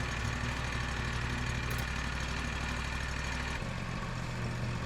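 Sawmill engine running steadily at a constant idle-like drone while massive logs are sawn, loud and close, with a slight shift in tone near the end.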